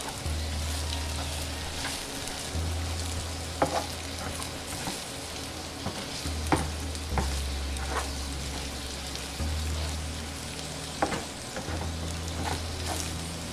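Food sizzles in butter in a frying pan while it is stirred, giving a constant crackling hiss with intermittent scrapes and taps, and a low hum runs underneath.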